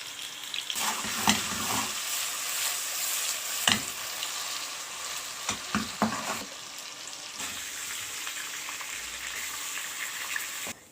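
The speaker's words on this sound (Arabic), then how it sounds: "طبعا احنا كده خلصنا كل كميه اللي هو التحمير، الكرات بتاعه اللحم" Dawood Basha kofta meatballs fry in oil with a steady close sizzle, broken by a few louder bursts and crackles as they are stirred or turned.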